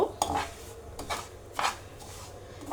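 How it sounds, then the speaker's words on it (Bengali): Semolina frying in ghee for a carrot sweet, stirred with a spoon that scrapes against the pan in a few distinct strokes over a faint sizzle, close up and with no talking. "আমি ঘিয়ের মধ্যে সুজিটাকে ভালো করে একদম ভেজে নেব"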